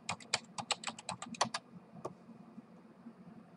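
Typing on a computer keyboard: a quick burst of about a dozen close, crisp key clicks, then a single stray tap in near-silence with a low background hum.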